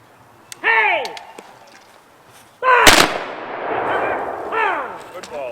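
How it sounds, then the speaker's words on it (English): A company of reenactors fires a single musket volley at a Patriots Day event, a sharp loud crack that rolls into a long echoing rumble. Shouted commands come just before and after it. "That was firing by company."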